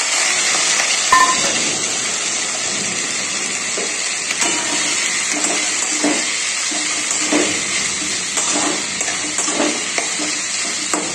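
Sliced capsicum and onion sizzle loudly in hot oil over a high flame, with a steady hiss of frying and intermittent scraping clacks of stirring throughout.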